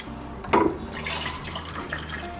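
Water is poured into a jug to make lemonade, a close splashing trickle after a sharp knock as the pour begins, steady and moderately loud.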